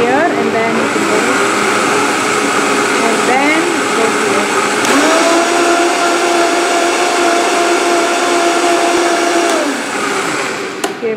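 A Vitamix blender whirs loudly and continuously up close, its motor pitch stepping upward as the speed is raised from low to high, while a person speaks over it.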